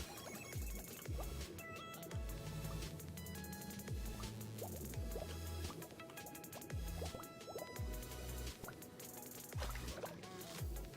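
Water drips in a Minecraft cave, plinking in uneven repeated drops over a continuous wet, liquid backdrop, fairly faint and without talk.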